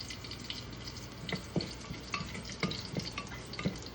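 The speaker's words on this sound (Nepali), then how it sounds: "त्यहाँदेखि लसुन छ है, लसुन हाल्नुहोस्" Garlic sizzles in hot oil with curry leaves for a tempering, giving a close, steady frying crackle with scattered pops and stirring taps.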